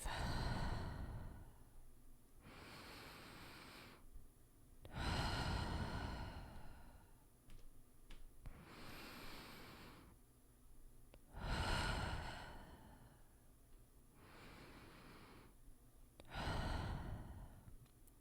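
Slow breathing during a meditation session: seven long, close breaths alternate between deep airy inhales and soft sighing exhales in a calm, even rhythm, with quiet pauses between and no talking.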